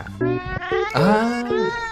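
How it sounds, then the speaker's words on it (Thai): A cat meows several times in a row, clear and close, with tonal, drawn-out cries that rise and fall, the longest and loudest in the middle, alone without talk. "แมวเหงาอ่ะ"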